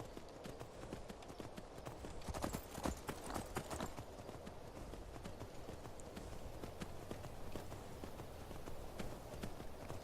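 Horse hooves gallop steadily in Skyrim, a dense, continuous clip-clop that runs close and moderately loud for the whole stretch, with a few sharper footfalls standing out.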